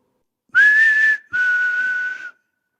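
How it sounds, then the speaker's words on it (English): A person whistles two long, clear, steady notes inside an old prison, a short gap between them, with a lingering echo. "could you give us a good whistle?"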